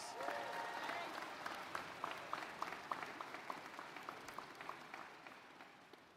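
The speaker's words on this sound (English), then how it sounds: "Kristen Arbach, can we give her a round of applause, please?" Quiet audience applause at a middle school closing ceremony, a soft wash of clapping with distinct individual claps standing out, gradually fading.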